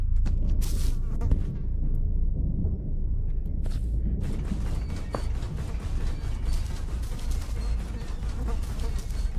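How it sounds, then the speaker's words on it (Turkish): A fly buzzes in a Hello Neighbor mod game, a continuous close drone that holds steady for several seconds and stands out against a quiet background. "Abi sinek, sinek bile eklemişler ya."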